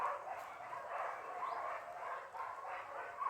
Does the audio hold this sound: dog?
yes